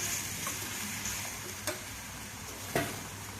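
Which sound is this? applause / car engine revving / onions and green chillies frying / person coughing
onions and green chillies frying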